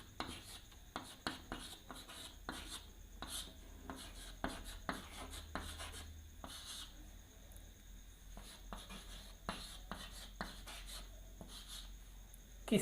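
A marker or chalk writes on a board during a Hindi-medium English grammar lesson on the present continuous tense: rapid, irregular scratchy strokes in bursts, quiet and close, with pauses between words, and no talk.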